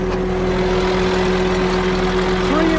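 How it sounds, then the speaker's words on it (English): A 2012 Bobcat S630 skid steer with a pre-emission Kubota diesel engine idles loudly and close, a steady low clatter with a constant droning tone, no talk over it. "Pre-Emission Kubota diesel engine."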